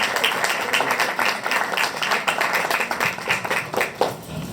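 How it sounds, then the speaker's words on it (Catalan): An audience at a book presentation in Nou Barris breaks into steady, dense applause, many hands clapping continuously at moderate loudness throughout. "Un fort aplaudiment."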